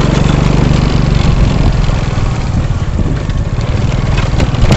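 A motorcycle engine running loud and close beside a deep water puddle on a rough off-road track in Petobo, a steady droning rumble throughout.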